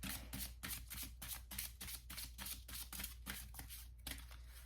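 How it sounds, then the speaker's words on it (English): Rapid rhythmic riffling of a deck of cards being shuffled, a steady series of crisp flutters close by, with no talking. "Let me do one more shuffle"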